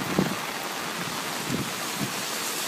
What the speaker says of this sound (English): Intense rains on Sunday morning are increasing the water flow.